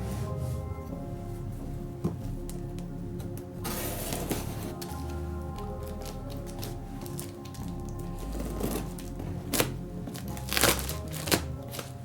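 A plastic package of Stryi wood chisels being opened, with crinkling and rustling of plastic and scattered sharp tearing clicks, close and fairly quiet, growing busier toward the end.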